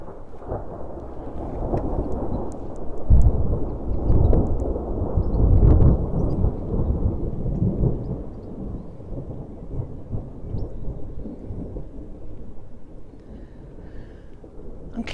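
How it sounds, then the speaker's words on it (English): Thunder from a storm moving away rolls in long, low rumbles that swell and fade, with rain pattering softly beneath. "the amount of time between the lightning and the thunder is getting longer"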